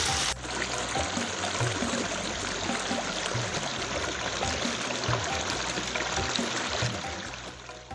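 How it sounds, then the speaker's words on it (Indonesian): Water from a very clear spring spills down a waterfall, a steady, continuous rushing wash that stays fairly loud and even throughout, with no voices over it. "Di tempat ini juga terdapat air terjun yang mengalir dari mata air yang sangat jernih."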